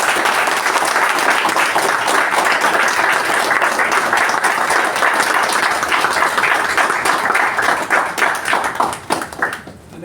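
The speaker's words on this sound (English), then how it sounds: "Please give the outgoing officers a round of applause" Audience at a club installation-ceremony meeting gives outgoing officers a sustained round of applause: dense, even clapping from many hands with no talk, tapering off in the final second.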